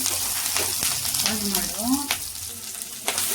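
Tomatoes hit a hot oiled frying pan for tomato chutney, giving a steady loud sizzle with brief crackles and a few scraping touches throughout.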